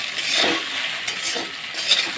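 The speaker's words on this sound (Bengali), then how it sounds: "গ্যাসের ফ্লেমটাকে একটু লোতে রাখবেন লোতে রেখে ভেজে নেবেন" Sago pearls fry in a pan over a low gas flame, giving a soft steady sizzle with light scraping stirs and a faint clink or two, close and alone without talk.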